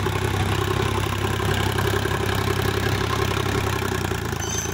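A Sonalika DI 50 Sikander tractor engine runs nearby with a loud, steady diesel rumble and a fine mechanical clatter. It holds even throughout, with no speech.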